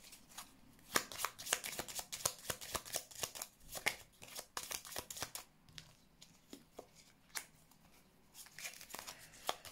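Tarot cards are shuffled and handled up close, a rapid run of crisp riffling flicks and slaps that comes in bursts, then slows into scattered soft snaps as cards are laid down, with no talk.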